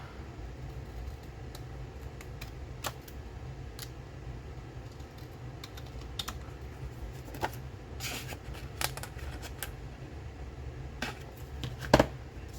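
Scissors cutting through a paper file folder for a lapbook, a few sharp snips scattered over a quiet room, faint and close with light handling noises.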